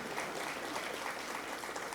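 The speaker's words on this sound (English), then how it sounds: "How about another round of applause for our mayor" A crowd at an awards ceremony claps continuously in a dense, even burst of applause that fills the whole moment.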